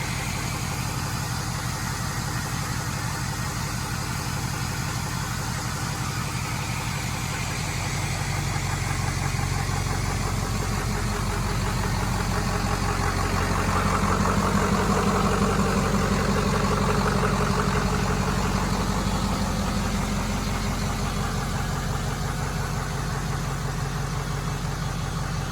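A Ford F-350 dually pickup truck idles with a steady, loud diesel-like rumble that swells slightly midway and holds close and continuous throughout.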